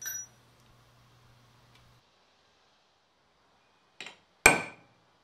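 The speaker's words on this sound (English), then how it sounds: "Then I'll use a prick punch and then a center punch to set the locations of the holes." Prick punch then center punch struck on metal to mark hole locations for a knife grinding jig, two sharp isolated metallic taps, the second louder, after a faint tick and near silence.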